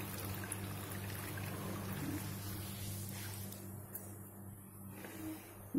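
Water drains and trickles off soaked semolina batter being prepared for sweets, a steady, soft pouring wash that runs continuously and fairly close, with no talking.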